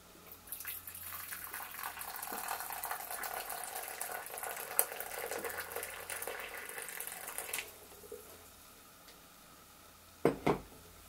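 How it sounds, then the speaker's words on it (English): Hot water pours into a small bowl in a quiet spa setting. A close, soft splashing trickle runs for about seven seconds, followed by a couple of gentle clinks. "Pour some hot water into this bowl."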